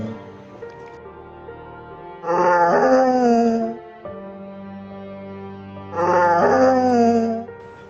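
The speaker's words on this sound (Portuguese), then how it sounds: "os cachorros começaram a chorar" Dogs at night cry and howl in two long, loud, mournful wails separated by a quieter stretch of low whimpering, with no voices.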